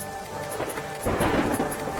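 Heavy monsoon rain with thunder over flooded streets in Lunawada, Mahisagar, Gujarat, a steady dense downpour that swells louder midway with a deep rumble, no voices.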